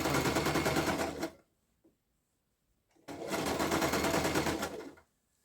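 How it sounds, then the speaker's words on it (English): A sewing machine back-stitches a blanket being enlarged from queen to king size, running in two steady close bursts, the first about a second long and the second about two seconds, with a short quiet pause between. "I'm sewing it down on the right side now, so that the inside could lay flat"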